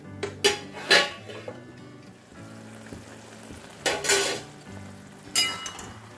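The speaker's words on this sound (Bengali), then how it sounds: "আর এদিকে পুঁই শাক হচ্ছে।" Malabar spinach sizzles in a pan on the stove, a soft steady frying hiss broken by a few sharp clinks and scrapes of a utensil against the pan.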